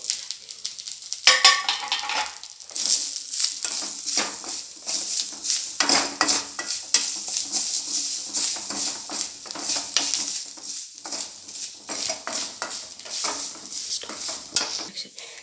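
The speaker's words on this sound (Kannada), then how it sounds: "ಕೊತ್ತಂಬರಿ ಇದನ್ನು ಚೆನ್ನಾಗಿ ಫ್ರೈ ಮಾಡಿಕೊಳ್ಳಬೇಕು" Coriander seeds with tamarind frying in a pan, dominated by busy, rapid clatter and scraping of a metal spoon against the pan over a soft sizzle, continuous and close, with no talking.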